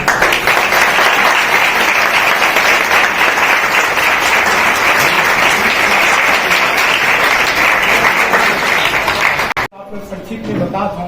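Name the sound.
audience applause at a committee meeting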